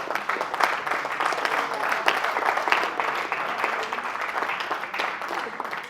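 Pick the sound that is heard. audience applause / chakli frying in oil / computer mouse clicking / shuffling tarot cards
audience applause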